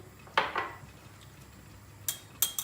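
A metal whisk clinks against a soup pot holding vermicelli soup. Two quick, close metallic taps early, then a pause and two more sharp clinks near the end, with no talk.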